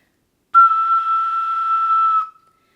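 One ocarina note with a crisp, tongued "to" attack, held steady for under two seconds and then released.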